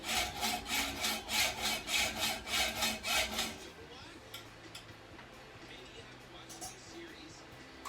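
A hand saw cuts with about ten even, rhythmic back-and-forth strokes, loud and close in a jewelry studio. The sawing stops partway through, leaving quiet room sound with a few faint clicks.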